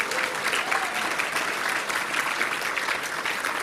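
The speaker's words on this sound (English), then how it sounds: "I think that deserves a round of applause, particularly for our nominees tonight" Audience applause at the Queensland 2021 Australian of the Year Awards ceremony, a dense, even clapping that holds steady at a constant level throughout.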